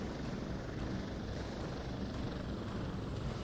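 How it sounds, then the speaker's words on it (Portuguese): Helicopter in the Prototype 2 video game, a constant, dense rotor and engine drone held at steady loudness throughout, with no talking. "eu estou dirigindo o helicóptero, olha como eu dirijo bem"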